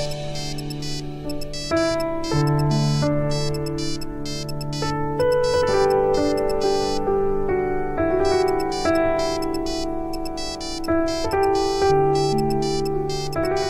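A phone ringtone plays a bright, looping electronic melody, loud and clear, with repeated notes continuing steadily and no voices over it.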